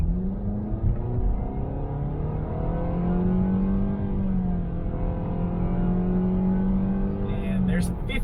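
A 2020 Nissan Sentra compact sedan with a continuously variable automatic transmission accelerating toward 50 mph, giving a steady, loud engine drone with a rising whine, heard from inside the cabin without talking.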